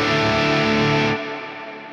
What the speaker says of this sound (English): I want a modulated reverb, which is something like a lexicon.